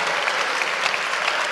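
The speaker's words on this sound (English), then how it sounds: "Big round of applause for everybody who was involved in the musical." Dense, steady applause from an audience celebrating school musical performers, with no voices, only a continuous wash of many hands clapping.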